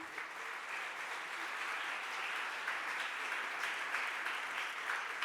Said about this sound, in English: Let's give them a real big round of applause